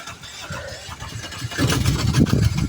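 An Aixam microcar's small engine cranks and catches after a month standing unused, turning over briefly and then firing into a louder, rough running note close by.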